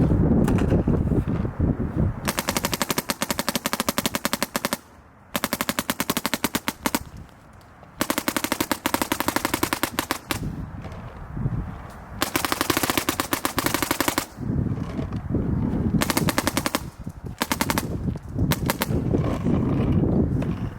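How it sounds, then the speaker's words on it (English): A MacDev Prime XTS paintball marker fired outdoors in long rapid bursts, each a dense, steady string of sharp snapping shots, separated by brief pauses of quieter wind and background noise. "The MacDev Prime XTS, I'm a fan. It shoots well."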